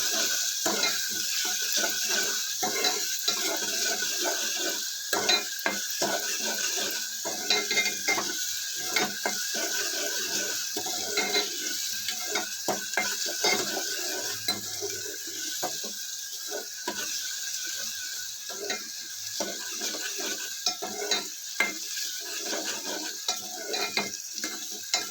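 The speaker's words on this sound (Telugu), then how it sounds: "గరిటెతో తిప్పుకున్నామండి. మీడియంలో పెట్టుకొని తిప్పుకోండి, లేదంటే మాడిపోతుంది." A ladle stirs tomato and ladyfinger (okra) curry frying in a pan, giving steady sizzling with repeated scraping and clinking strokes against the metal throughout, no talking.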